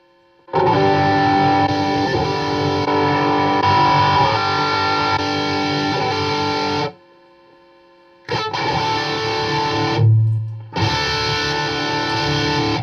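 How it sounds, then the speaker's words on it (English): Heavily distorted electric guitar chords through a distortion effect pedal with only gain and level controls ring out in long, dense, fuzzy, somewhat muffled blocks, stopping briefly and resuming twice. "when I put this distortion on, it's almost muffled"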